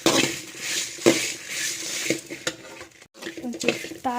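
Ingredients fry in a pan on a home stove and a spoon stirs them, giving scraping, clinking strokes over a soft sizzle. Short quiet gaps break the sound, and no one talks.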